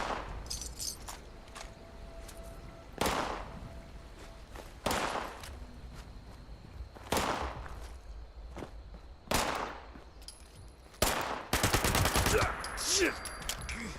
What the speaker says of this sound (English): Bro, stop shooting at me.